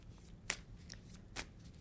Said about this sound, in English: So let me shuffle again.